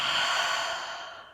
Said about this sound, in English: breathing in through the nose and making that ha sound out the mouth